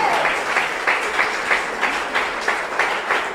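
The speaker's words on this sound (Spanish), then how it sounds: "Denle un aplauso a Jesús de Nazaret" Congregation in a church applauding during a Sunday service, a steady wash of many hands with faint rhythmic pulses, moderately loud and continuous, with no talk over it.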